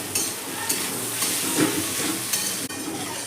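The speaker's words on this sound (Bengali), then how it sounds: "শাকটাকে ভালো করে এবার নেড়ে দেবো" Nota saag greens stirred while frying in a pan on low heat, giving a steady close sizzle with repeated scraping strokes of a spatula at irregular intervals.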